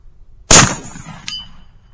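A 12 gauge slug gun fires a Foster slug at a steel target: one sharp, loud shot, followed about three-quarters of a second later by a faint metallic clang of the slug striking steel at range.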